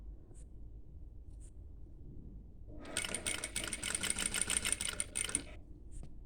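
A tailoring sewing machine stitching fabric in a basic stitch: a quiet room gives way to a close, rapid mechanical rattle lasting about three seconds, then stops with a faint click.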